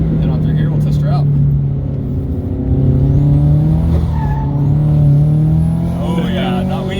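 A turbocharged Toyota FRS sliding sideways through a chicane, its engine droning loudly and shifting in pitch with faint tire squeal, heard from inside the car while a person talks over it.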